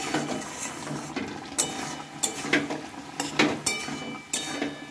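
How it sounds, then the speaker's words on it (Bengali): A fried drumstick pickle mixture stirred in a pan, giving irregular scraping and knocking strokes of spoon against metal over a soft sizzle, close and fairly loud. "এবার দিয়ে নিয়ে এটা আমি ভালোভাবে নেড়ে চেড়ে নেব।"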